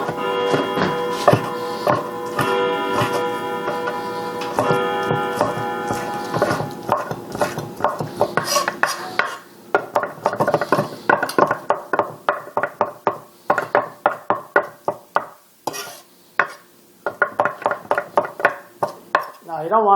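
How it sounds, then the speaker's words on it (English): A knife chops jalapeño-and-sausage filling into strips on a cutting board, a run of quick, sharp, evenly spaced knocks growing steadier toward the end, with talking and a tonal background sound early on. "now we're going to kind of chop this in strips"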